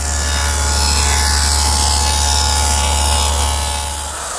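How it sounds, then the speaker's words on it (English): A router fitted with a 1/4 inch dado bit grooves wooden drawer sides for a pantry table, giving a loud, steady motor whine that holds unbroken throughout. "I'm going to change to a 1/4 inch width dado and groove the sides and the front"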